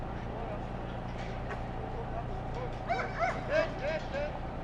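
A yard dog works sheep at a championship trial, giving a short series of sharp yips and barks near the end, fairly faint over steady outdoor background with voices in the distance.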